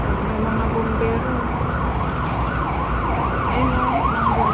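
A fire engine siren wails in Yuen Long, Hong Kong, its pitch rising and falling again and again over a background of traffic rumble.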